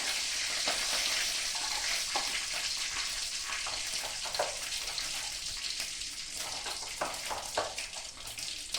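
Mustard seeds and curry leaves frying in hot oil for a Kongunadu-style radish stir-fry, a bright continuous sizzle with scattered sharp pops and crackles, close and steady throughout.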